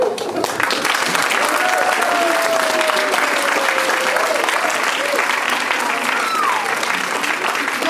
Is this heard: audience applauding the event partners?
yes